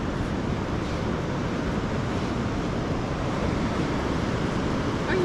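Ocean surf rolling steadily onto the beach at Ocean Shores, a continuous broad wash of breaking waves with wind buffeting the microphone throughout.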